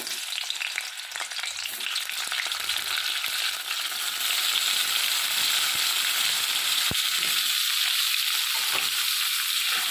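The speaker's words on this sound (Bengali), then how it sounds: "আমি আগে ফুলকপিটা ভেজে নেবো" Cauliflower florets frying in oil in a pan, producing a steady, bright hiss of sizzling that holds at an even level throughout, with a single sharp clink near the end.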